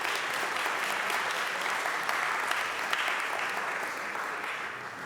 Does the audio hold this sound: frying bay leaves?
no